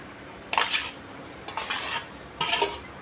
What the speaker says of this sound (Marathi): ती पण व्यवस्थित मसाल्यामध्ये मिक्स करून घ्यायची आहे